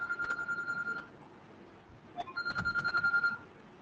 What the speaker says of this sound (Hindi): एक मिनट रुको, फोन आ रहा है।